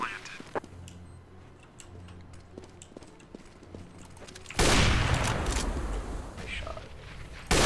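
Gunfire in Counter-Strike: Global Offensive: scattered sharp clicks and pops at first, then a sudden loud burst of dense shooting and noise that carries on to the end, with a voice speaking over the game.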